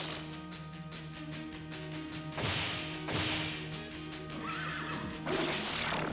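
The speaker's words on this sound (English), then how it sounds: "Just a horse." A horse neighs in the video game Shin Megami Tensei III: Nocturne, over steady synth music, with several sharp whooshing bursts cutting through the mix.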